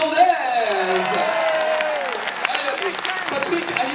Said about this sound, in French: je veux également un tonnerre d'applaudissements pour monsieur Patrick Hernandez.